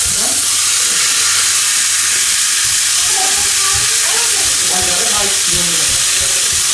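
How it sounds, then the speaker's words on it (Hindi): Butter sizzles and fries loudly in a pan while wagyu steak cooks, a steady dense hiss throughout with faint talk underneath. "तो ये अब हम डालते हैं ज़रा सा बटर,"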